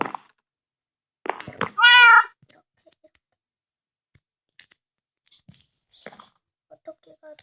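A cat in a PC bang setting gives one clear, loud meow in the middle, with scattered faint clicks and light handling noises before and after, and brief human voice sounds nearby.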